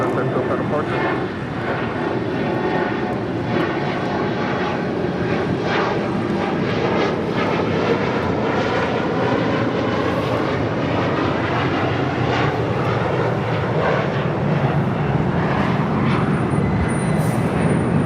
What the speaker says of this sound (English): This is Cathay Pacific Cargo 2080 coming in from Dallas Fort Worth on a 15-year-old 747-400 freighter